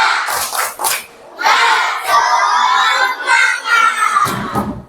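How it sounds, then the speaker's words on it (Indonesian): Primary school children in a class doing a 'tepuk semangat' spirit clap, chanting loudly in unison with clapping, in short bursts with brief gaps between them. "Bapak ingin kalian tepuk semangat dulu"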